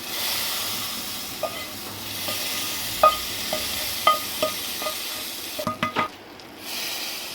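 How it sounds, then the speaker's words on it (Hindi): Vermicelli goes into a pot of Hyderabadi sheer khurma just lifted off the stove and is stirred, with scattered light spoon taps and clinks against the pot over a soft steady hiss, ending in a quick cluster of knocks. "ये सवैयाँ अब हम इसमें डाल देंगे।"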